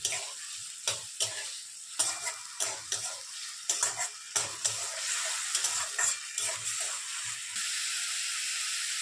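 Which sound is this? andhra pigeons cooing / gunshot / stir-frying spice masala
stir-frying spice masala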